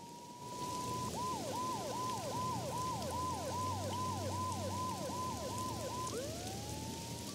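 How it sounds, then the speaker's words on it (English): A wailing police siren in the game Max Payne 2 cycles rapidly up and down in steady yelps, then slides into a long rising wail, over a constant rain-like hiss. "must have heard the sirens too"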